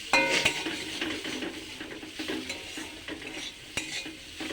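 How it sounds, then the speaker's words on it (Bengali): Bitter gourd is stirred with spices in an oily frying pan, a close spatula scraping and clinking against the pan over a soft sizzle, in irregular strokes with a few sharper knocks. "মশলার সঙ্গে একটু নেড়ে নিই উচ্ছেটা"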